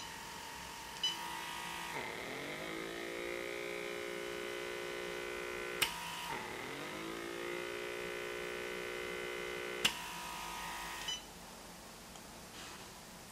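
Electric pore vacuum device humming against facial skin, a steady close tonal drone whose pitch dips and recovers as suction catches, punctuated by a few sharp clicks or beeps.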